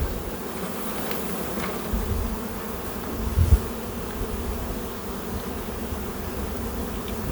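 Honeybees buzz steadily around an open hive during a spring inspection, a close, continuous droning hum with a brief louder burst partway through, no voices.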